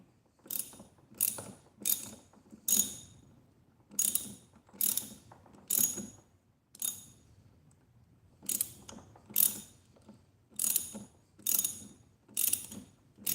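A ratchet clicks in repeated short bursts while loosening a Loctite-secured bolt on a Ducati 996, each stroke a quick rattle of pawl clicks, close up, with brief pauses between pulls.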